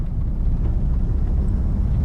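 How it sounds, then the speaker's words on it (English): A DAF XF 105 truck with a Paccar MX engine in Euro Truck Simulator 2 gives a steady, loud low diesel drone that holds evenly throughout without any talk. "We will really enjoy this original sound from Paccar."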